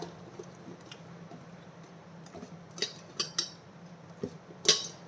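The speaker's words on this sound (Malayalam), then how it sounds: "അപ്പോൾ ഇത് നല്ല രീതിയിൽ കലക്കി വയ്ക്കാം" Faint clinks and light taps of a utensil against a bowl while mixing moong dal idli batter, irregular and sparse, over quiet background hum with no talking.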